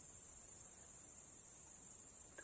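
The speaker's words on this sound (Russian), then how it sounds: "Стрекочут кузнечики." Grasshoppers chirp in a sunny summer forest, a continuous high, even trilling that stays steady and fairly faint, with no talk.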